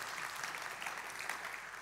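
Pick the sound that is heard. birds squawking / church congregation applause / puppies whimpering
church congregation applause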